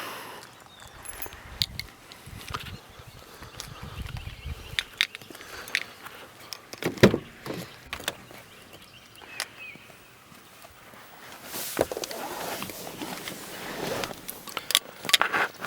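Keys and remotes for a 2014 Ram 1500 Big Horn jangle and clink in short, irregular bursts, close by and fairly quiet.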